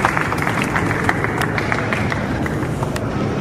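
Audience clapping at an India Against Corruption public meeting in Mumbai, ward 65: a steady, dense wash of applause from a large crowd, sustained evenly throughout with no pauses.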